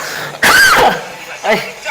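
A single loud close cough, followed by a softer throat sound a moment later.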